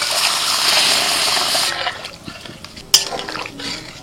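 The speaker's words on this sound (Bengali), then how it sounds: "মটন সিদ্ধ জলটা দিয়ে দিই।" Boiled mutton stock poured into a pan of spiced mutton, a broad watery rush for the first second and a half, then quieter liquid movement with a sharp clink of a utensil against the pan.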